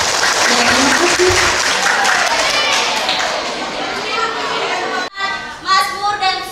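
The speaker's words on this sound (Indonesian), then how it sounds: "Kita beri tepuk tangan." Loud crowd applause at a church youth day celebration, mixed with shouting, children's voices and chatter; the clapping fades, breaks off abruptly, then cheering voices rise again.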